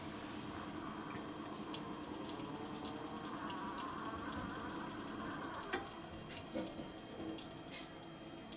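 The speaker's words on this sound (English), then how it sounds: "now it should be time for it to brew the shot of coffee" Keurig K-Cafe single-serve coffee maker brewing a shot of coffee, a faint steady trickle and gurgle of liquid with scattered small drips and ticks, heard close and quiet with no voices.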